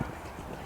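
Horse hooves pounding the ground on a wet, stormy eventing cross-country course at novice level, a brief burst of muffled clip-clop beats under steady broadband wind and outdoor noise.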